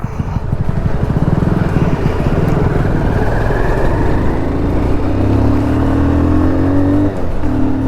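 A Yamaha RX 100 motorcycle engine revs loudly and close by, a rough two-stroke burble that climbs steadily in pitch over several seconds before dropping off near the end.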